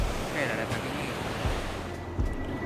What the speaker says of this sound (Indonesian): Ombak dia sangat tenang.